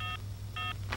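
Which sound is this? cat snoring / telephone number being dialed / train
telephone number being dialed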